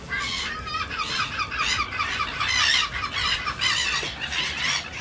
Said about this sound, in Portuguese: toda manhã no Palafito Hostel, é um baile de pássaros